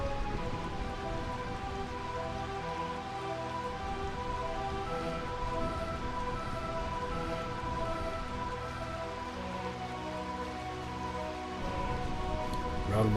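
Steady rain falls in the Realm of Eternal Rain from Final Fantasy IX, a constant even patter on surfaces that holds at moderate level throughout with no voices.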